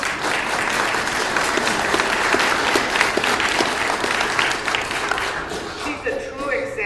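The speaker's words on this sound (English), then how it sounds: "And yes, you can clap for Lynn." Audience applause for an honoree at a small business leadership event, a dense sustained clapping that fills the room and tapers near the end as a voice begins speaking.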